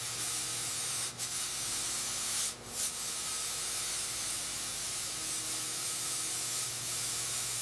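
Continuous close hiss of a spray gun laying primer onto a 1955 Chevy fender, steady throughout with two brief bursts of stronger spray, no talking.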